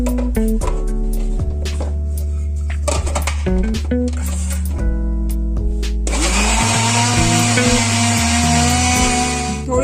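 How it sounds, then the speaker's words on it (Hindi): An electric kitchen grinder whirs loudly and continuously while beating corn flakes for a corn flakes cheesecake, the motor roaring close up with music playing underneath throughout. "ग्राइंडर में इनको बीट करूंगी अच्छी तरह।"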